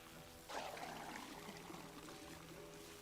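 Water pours steadily from a watering container during watering, a soft filling gush that starts abruptly after half a second and continues quietly, heard alone without voices.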